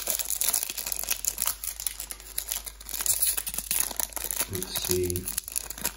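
Crinkling foil wrapper of an old-school Magic the Gathering Homelands booster pack being handled and opened, with steady crackling and rustling throughout while a person speaks briefly over it.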